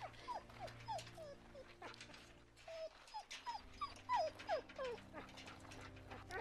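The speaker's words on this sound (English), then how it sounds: "Aw, oh, poor dog." A dog in The Walking Dead Telltale Season 2 gives a run of high, wavering whimpers and yips, close and plaintive, over a low ambient hum.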